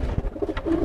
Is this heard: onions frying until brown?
no